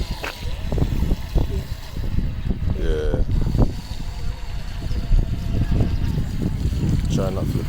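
A DEERC RC race boat with a cooling pump runs on water, its motor whine and splashing steady and close, with wind noise and people talking over it throughout.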